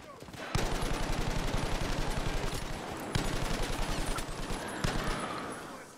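A Browning M1919A6 machine gun in the Battlefield V game fires sustained, rapid automatic bursts, loud and close, with a few brief pauses between long strings of shots.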